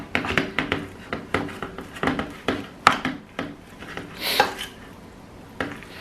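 A spoon scrapes and clinks around a bowl, mixing sauce into burger meat, in quick irregular strokes that sound close and moderately loud, with a brief rougher rub near the end.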